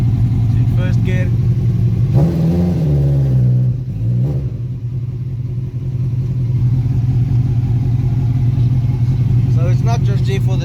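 A Datsun car fitted with a swapped motorcycle engine runs in first gear, its engine droning steadily up close with a rise and fall in revs partway through, loud and continuous, while a person talks over it.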